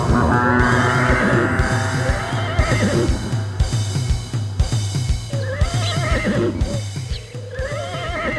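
A horse neighs and whinnies repeatedly, loud and close, with shrill rising and falling calls over a rhythmic background of hoofbeats and thumps, no talking.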